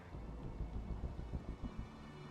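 Rain falls in a video game world as a soft, steady wash over a low rumble that swells and eases irregularly, muted and distant, with no voices.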